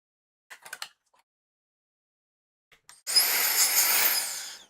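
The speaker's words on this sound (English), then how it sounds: "So this is a pretty strong blower." A strong air blower used to clean out a computer during repair switches on and runs as a loud, steady high-pitched whine with rushing air for under two seconds, after a few brief handling clicks.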